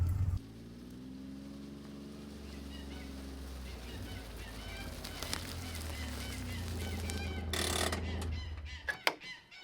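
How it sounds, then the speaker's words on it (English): Geese call near a field with a fallen tree blocking it, a few loud honks rising over rustling ground noise, with sharp clatters and a burst of noise near the end. "Geese are pissed off because I'm right here."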